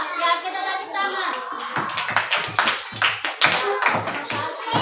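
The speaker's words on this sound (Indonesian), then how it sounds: "Ya, kita tepuk tangan." Schoolchildren in a classroom clap their hands together in a rhythmic, patterned group clap, close and lively, with children's voices and chatter mixed over it.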